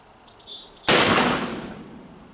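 A Ruger Old Army revolver fires a single loud, sharp report outdoors, with a decaying tail. Faint birdsong chirps in the background just before the shot.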